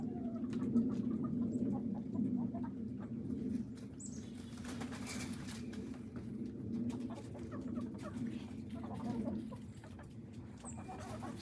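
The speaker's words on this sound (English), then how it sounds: "I'm trying to grab a white Leghorn." Flighty chickens flap their wings in bursts and cluck nearby as someone tries to catch a white Leghorn hen, with scattered rustling and occasional sharp squawks over a steady low rumble.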